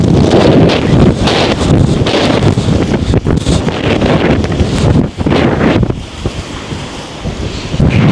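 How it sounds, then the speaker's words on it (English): Strong wind on a beach roars and buffets the microphone loudly and continuously, with surf washing underneath and no talking. "The winds are definitely not 100 kilometers an hour or more."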